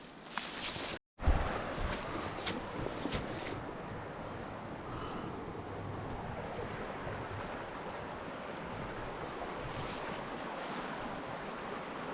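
A river runs steadily past a spot where a beaver has been gnawing, a broad continuous rush of flowing water mixed with wind buffeting the microphone, with a brief dropout early on.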